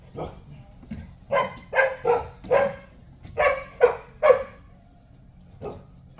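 A puppy yips and barks in a run of short, close bursts, several in quick succession, with people talking around it in a class setting.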